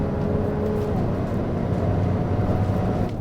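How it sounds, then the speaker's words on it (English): A Ferrari 296 GTB with its hybrid twin-turbo V6 accelerates hard down a straight, producing a loud, steady engine roar with a gradually rising tone and no pauses. "deploying all 830 horsepower down the straight"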